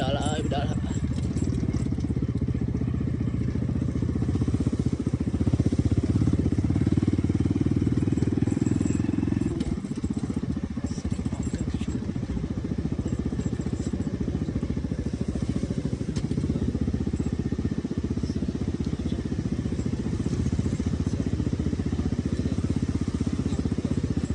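Motorcycle engine droning steadily and close throughout a ride along a road to a waterfall, with a voice talking over it.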